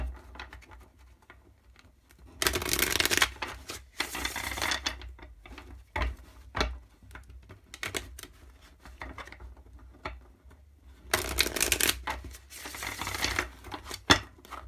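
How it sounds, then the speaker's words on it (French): Tarot cards are shuffled by hand in repeated loose bursts of riffling and scraping, with quieter handling and soft taps between the louder shuffles. "Je vais d'abord mélanger un peu."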